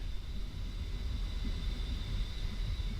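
Loud, steady roar of A-10C jet engines at full takeoff thrust in the DCS flight simulator, a continuous low rumble with a thin high whine, constant throughout and without speech.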